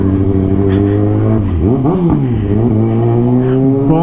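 A Kawasaki Ninja ZX6R motorcycle idles loudly up close, its engine note dropping and then surging through several sharp revs in the middle before settling back to a steady rumble.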